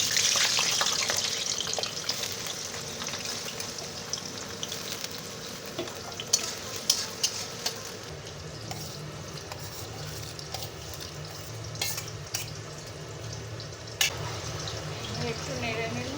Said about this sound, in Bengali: তেলটা পুরো গরম হয়ে গেছে, আমি এবারে সব আলুগুলো আগে দিয়ে দেবো।